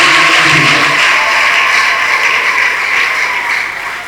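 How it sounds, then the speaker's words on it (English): A large crowd at a church gathering gives a loud, sustained round of hand clapping that fills the space evenly and tapers slightly at the end. "let's welcome them with a loud hand clap."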